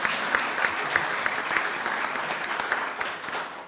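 Audience applause, a dense steady clapping from a crowd with a few louder individual claps standing out, sustained throughout without speech over it.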